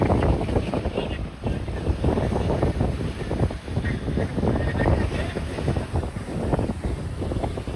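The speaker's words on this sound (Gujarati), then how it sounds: "આ રીતના મોજા ઉતરે છે પાણીના" Water waves surge and wash in at a ghat in Dwarka, a rolling, rushing churn with repeated swells, loud and close, mixed with strong wind buffeting the microphone.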